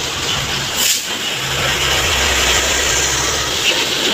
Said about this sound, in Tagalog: Lalaki ng sasakyan dumadaan